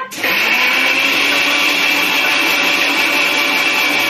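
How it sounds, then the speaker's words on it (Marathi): A kitchen mixer grinder whirring loudly and steadily as it grinds a spice paste for fish fry, starting abruptly and running close up without a break. "आता ना मी मिक्सरला चालू करतोय"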